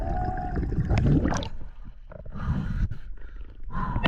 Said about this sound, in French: Vous entendez mon essoufflement?